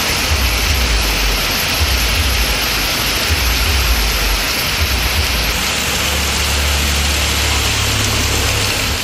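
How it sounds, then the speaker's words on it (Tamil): Heavy rain pouring down in Manamadurai, Sivaganga district, Tamil Nadu: a steady, dense hiss with a low rumbling undertone, loud and continuous throughout. "சிவகங்கை மாவட்டம் மானாமதுரையிலும் கனமழை பெய்தது."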